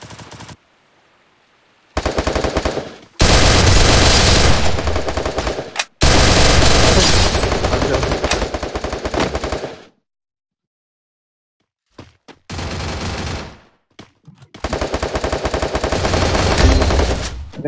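Bursts of automatic gunfire in the Free Fire battle royale game, loud and dense, coming in several long volleys separated by short silent gaps, with one shorter burst near the end.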